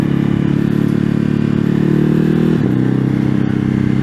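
A Ducati Hypermotard 950 SP motorcycle engine rumbles steadily up close, its low drone briefly dipping and shifting pitch partway through, with no talking.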